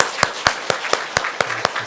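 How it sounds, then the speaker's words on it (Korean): Church congregation clapping in welcome during a Sunday worship service, a slow, evenly spaced series of about eight sharp, fairly close claps. "우리 환영하면서 박수로 환영하겠습니다."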